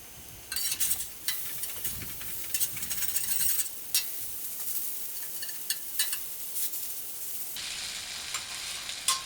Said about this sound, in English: you'll literally hear that sizzle start to just slow down